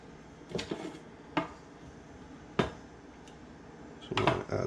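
A big spoon clinks and knocks against dishes while chimichurri aioli is mixed at home, four or five separate sharp clatters spread over a few seconds in a quiet kitchen.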